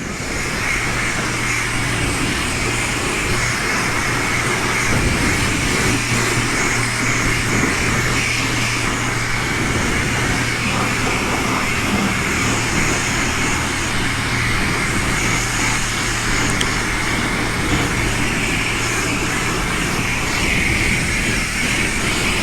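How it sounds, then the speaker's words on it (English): A high-pressure rinse wand at a coin car wash sprays a 2023 Kawasaki Ninja 650 motorcycle, giving a steady, close, loud hiss and rush of water with no break for the whole stretch. "High pressure rinse."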